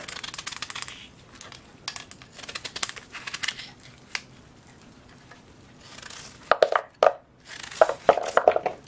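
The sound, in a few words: knife chopping potatoes into small cubes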